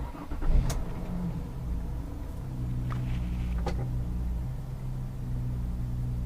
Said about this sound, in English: car has to be running